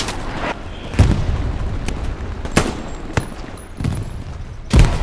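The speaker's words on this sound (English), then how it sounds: "Where the shots fired come from?" Scattered gunshots ring out in the World War II shooter Hell Let Loose, several sharp cracks and booms at irregular intervals over a low rumbling battlefield background, some near and loud, others more distant.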